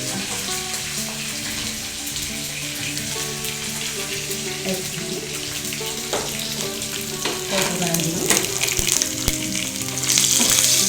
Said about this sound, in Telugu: తాలింపు, వెల్లుల్లిపాయలు, కరివేపాకు, ఆవాలు, జీలకర్ర బాగా ఫ్రై అయిపోయి.